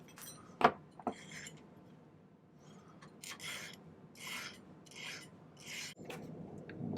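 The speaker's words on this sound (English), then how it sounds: "so I'm going to file them to a taper" A metal file rasps against silver wire to taper it for a pendant. It makes a handful of short, quiet scraping strokes in a steady rhythm, with a few small clinks at the start.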